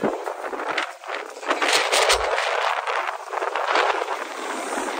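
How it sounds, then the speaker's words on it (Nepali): Strong wind blows outdoors on a city street in Birmingham, a steady loud broadband rush with gusty surges and brief dips, close to the microphone, with no clear voices. "हावा बहुतै चलेछ"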